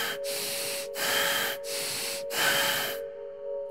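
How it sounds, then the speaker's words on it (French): Deep, fast rasping breaths during a guided breathing meditation, four loud forceful exhalations in a steady rhythm, each with a brief pause, ending in near silence. "Deep and fast, rasping breath, deep and fast."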